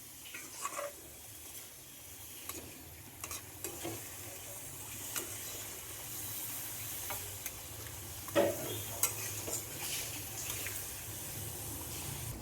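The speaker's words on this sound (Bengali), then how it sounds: "এবারে কুমড়োর পিসগুলো মশলার সঙ্গে খুব ভালোভাবে মিশিয়ে নিচ্ছি।" Pumpkin pieces being stirred with spices in a wok, a faint sizzle running underneath while a spoon scrapes and clinks against the pan in irregular strokes, with a louder scrape near the end and no voices.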